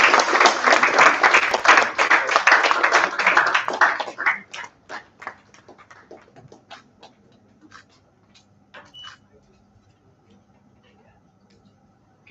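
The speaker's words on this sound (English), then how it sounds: "please give it a big round of applause." Audience applause at an education summit, dense and loud clapping for about four seconds before tapering into scattered individual claps that fade out.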